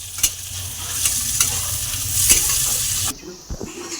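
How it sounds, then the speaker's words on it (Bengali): Chopped carrot and cauliflower fry in a hot pan, a steady loud sizzle with scraping stirs and clinks of a spatula, then the hiss drops away abruptly near the end leaving a few soft knocks. "ফুলকপিগুলো দিয়ে দিন, এবার এগুলো ভালো করে ভেজে নেব"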